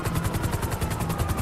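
A video game helicopter's rotor chops in a steady, rapid rhythm, loud and close, with no talk over it.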